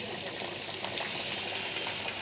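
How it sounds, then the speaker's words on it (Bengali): A little water poured into a pointed gourd curry in a pan, giving a close, continuous rushing splash that holds steady for the whole short stretch. "সামান্য একটু জল দেব, জল দিয়ে আমি ঢাকা দিয়ে দেব।"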